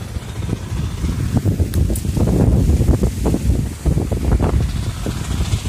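Steady strong typhoon wind (Typhoon Ulysses) roaring across a small farm and buffeting the microphone, a continuous low rumble with gusty surges throughout.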